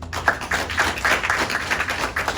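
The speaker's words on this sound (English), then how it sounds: "give yourself a big round of applause" Audience applause closing a graduation ceremony, a steady, dense patter of many hands clapping close by that holds evenly throughout with no talking over it.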